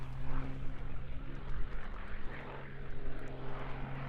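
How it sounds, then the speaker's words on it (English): A propeller aerobatic aircraft flying a tight final circuit during a freestyle aerobatics championship, a steady droning engine hum at moderate distance with slight swells, heard alone. "And as we watch Igorus make a tight final circuit"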